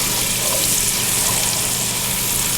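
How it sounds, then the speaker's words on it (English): Garlic sizzles loudly and steadily in a pan with bacon fat as it is stirred, giving a continuous close frying hiss with no talking. "the garlic does not take long to cook here, so what you want to do is just stir it around"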